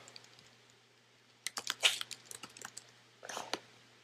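Bursts of rapid clicks from a computer keyboard, typed in two short flurries separated by a pause, fairly close and alone.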